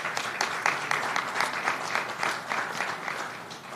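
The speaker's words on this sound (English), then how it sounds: "let's give them a round of applause" A crowd gives a round of applause at a public event for a city's public works department, lively rhythmic clapping close by that holds steady throughout with no speech over it.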